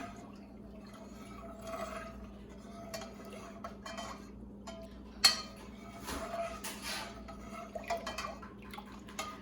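A spoon stirs honey into black elderberry syrup in a pot, producing soft liquid swishes and intermittent metallic scrapes and clinks against the pot, with one sharper knock midway; quiet and close, no talking.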